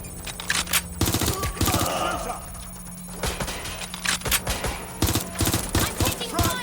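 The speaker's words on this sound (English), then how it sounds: "Suspect has opened fire!" Rapid bursts of automatic gunfire crackle in the Watch Dogs Legion video game, dense and loud, mixed with shouting voices throughout.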